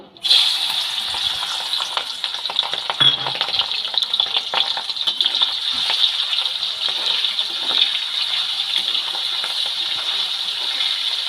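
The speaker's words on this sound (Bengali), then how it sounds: "তেল গরম হয়ে গেছে এবার চিংড়ি মাছগুলোকে ভেজে নেব" Prawns drop into hot oil and fry with a loud, bright, crackling sizzle that starts abruptly and holds steady throughout, with small spattering pops.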